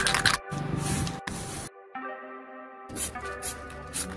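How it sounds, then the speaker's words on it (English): Hissing bursts of aerosol spray paint onto a skateboard come in short blasts, broken by pauses and a brief tonal hum, close to the listener. "Now it's time to spray the other side."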